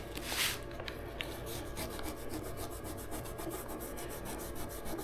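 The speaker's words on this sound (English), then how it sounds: "I'm going to take this Scotch-Brite pad and just rub some of that finish off right here" A Scotch-Brite pad rubs the finish off a surface in quick, even back-and-forth strokes, a close, dry rasping scrub with no talk.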